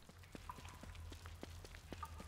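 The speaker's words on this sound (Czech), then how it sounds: "A proč mi zase prší?" Rain in the survival game Don't Starve Together: a faint, steady patter of drops with scattered sharper taps over a low continuous background hiss.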